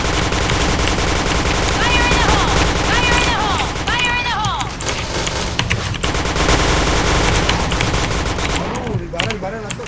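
Rapid automatic gunfire in the online shooter Point Blank, loud and nearly continuous bursts with a few sharper shots, under players talking over voice chat.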